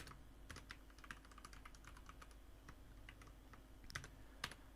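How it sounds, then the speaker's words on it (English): Code being typed on a computer keyboard: steady, fairly quiet runs of key clicks with a few louder taps, no talking. "After you're done typing your code"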